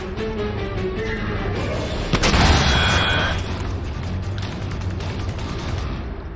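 Deep, booming explosion in the video game Rage swells near the middle and fades into a rumbling wash, with no talking over it.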